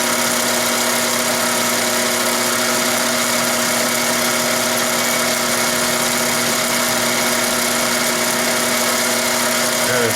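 A metal lathe takes a continuous cut on a diesel engine part, producing a loud, steady mechanical whine and hum with a constant tone throughout and no pauses.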